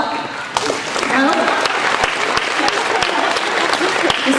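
An audience at a St Brigid of Kildare school presentation applauds a graduating class with loud, sustained clapping, sharp individual claps popping out of the dense wash.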